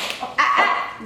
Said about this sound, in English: we had our cut out because Goober started barking